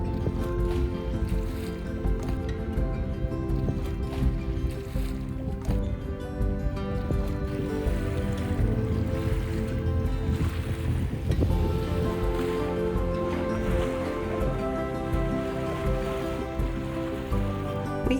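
A sailboat moves over open sea off the Faroe Islands, with a steady dense wash of water and wind rushing past the hull throughout, loud and unbroken with no talk.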